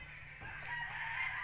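A rooster crows and chickens cluck faintly in a backyard flock with newly hatched chicks, quiet and somewhat distant.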